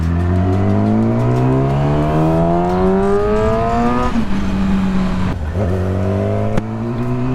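A Yamaha YZF R6 sport motorcycle with a very loud aftermarket exhaust revs hard through the gears while riding at night, rising howls broken by brief drops at each shift, close and continuous.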